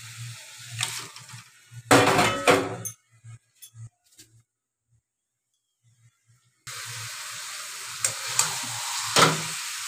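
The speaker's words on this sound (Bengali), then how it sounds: "এবারে মাটনগুলো আমি দিয়ে দিচ্ছি" Drained mutton pieces hit a hot pan with a loud burst of sizzling, then a near-silent gap, then a sustained crackling sizzle with occasional clinks from the pan.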